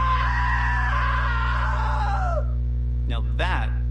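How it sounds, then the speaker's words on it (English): A scream from the video game What Remains of Edith Finch, a loud, sustained cry that sags in pitch and cuts off, followed by two short vocal yelps over a steady low game hum. "Now that was a great scream."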